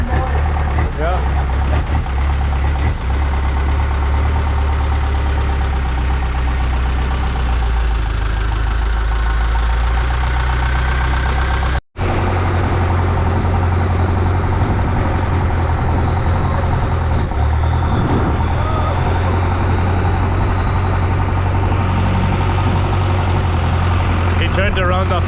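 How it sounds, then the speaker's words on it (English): A longtail boat driven by a truck engine runs loud and close, a heavy low rumble with a knocking, idling throb that holds steady throughout, with a voice talking over it. "As you can see, the engine is from a truck."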